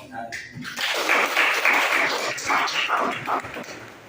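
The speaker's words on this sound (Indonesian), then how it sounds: "kita kasih tepuk tangan dulu untuk kelompok" A group of people applauds together, a broad continuous wash of clapping that swells in and holds steady for several seconds, with speech mixed in.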